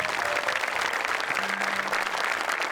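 An audience claps steadily and densely through the whole stretch at a comedy stage show, a loud, continuous wash of applause with a faint murmur of voices in the crowd.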